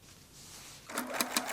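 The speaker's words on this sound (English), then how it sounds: "Align the side raw edges and stitch them on the sewing machine." A sewing machine stitches a denim tote bag made from old jeans; after a quiet hiss, a short fast burst of mechanical needle chatter starts up close.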